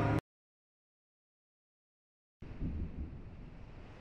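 Video game storm in Kingdom Hearts Final Mix: a brief burst of thunder at the very start, then silence, followed by a steady rumbling wind roar that continues to the end.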